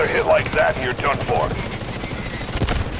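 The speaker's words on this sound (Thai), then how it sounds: "มีฮอตามมา" Helicopter and gunfire in the Delta Force video game: dense rapid shots and bursts over a steady rotor drone, loud and continuous, with game voices talking over it.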